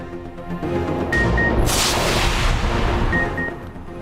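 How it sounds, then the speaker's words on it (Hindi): Modern artillery fire from Pakistani forces striking Indian army forward posts along the Line of Control, heard as a sustained rumbling roar of heavy blasts and a broad noisy surge that holds at steady loudness over a low drone, with no talk. "जदीद आर्टिलरी के जरिए भारतीय फौज की मुतादिद अगली चौकियों को निशाना बनाया"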